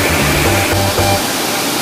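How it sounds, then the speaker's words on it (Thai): A waterfall at Mae Kampong, flowing down past a coffee spot, roars as a loud, dense, steady rush heard up close, with a faint low tonal hum underneath for a short moment. "นี่เป็นน้ำตกนะ ที่ไหลลงไปที่เรานั่งทานกาแฟกันเมื่อสักครู่นะ"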